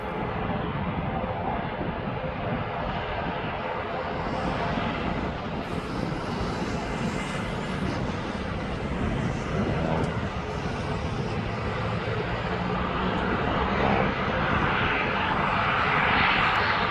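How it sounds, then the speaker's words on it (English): An ATR 72-600 turboprop airliner taxis toward the runway at East Midlands Airport, its engines giving a steady, loud, broad drone that holds throughout and swells slightly near the end. "As Eastern Air makes his way up to the runway, that's the 72600."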